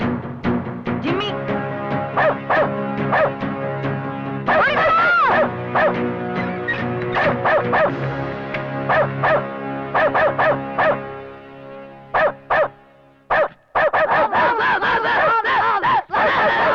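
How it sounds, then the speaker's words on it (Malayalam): A dog let loose in a Malayalam film scene barks, yips and whimpers in loud, repeated bursts over a dense, continuous backdrop of other sound. "ഞങ്ങൾ പട്ടം എടുക്കാൻ വന്നപ്പോ അതെന്നാ പട്ടി അയച്ചു വിട്ടു"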